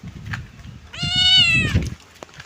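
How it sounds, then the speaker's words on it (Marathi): Cat outdoors letting out a single clear, drawn-out meow, close and moderately loud, set against quiet rustling background sounds. "आमची मांजर पण आमच्यासोबत येणार आहे आज पाहू शकता हे बघा लपते"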